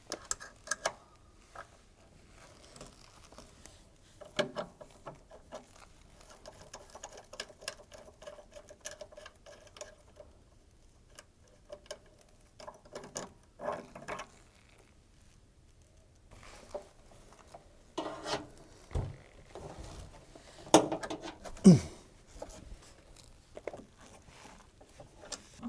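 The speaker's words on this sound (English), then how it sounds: "we need to undo these 6 bolts using our 10mm spanner" A 10mm spanner undoing the six direct drive motor bolts on an LG washing machine, faint scattered metallic clicks, taps and ratcheting ticks with quiet gaps between them.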